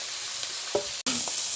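Cumin seeds sizzling in hot oil in a pan while cooking a Bengali vegetable curry, giving a steady soft hiss with a brief stirring scrape and a short break partway through.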